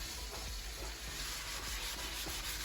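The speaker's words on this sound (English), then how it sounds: "you have to scrub pretty hard." Steady, hard scrubbing of a white porcelain sink with Bar Keepers Friend cleanser, a close, continuous abrasive rubbing with faint rhythmic strokes over a hissy background.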